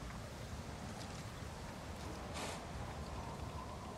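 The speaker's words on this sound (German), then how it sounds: "Der Wind wird stärker." Strengthening wind in Ghost of Tsushima blows as a steady, full-bodied rush with low rumble and occasional gusty swells, carrying on alone without voices.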